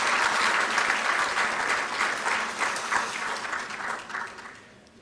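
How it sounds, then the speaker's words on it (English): A seated audience at the swearing-in ceremony of Ghana's Chief Justice breaks into a sustained round of applause, dense and loud at first, then thinning and fading toward the end. "Another round of applause, please."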